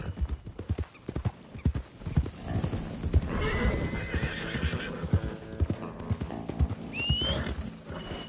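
Horses in Red Dead Redemption 2 trot with rapid clip-clopping hooves, then a loud neigh and later a sharp whinny rise over the galloping, close and clear.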